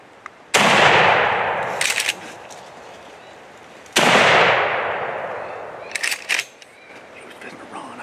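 Two loud, close gunshots fired at a coyote ring out a few seconds apart, each a sharp crack trailing off in a long echo, with brief clicks and handling noises following each shot.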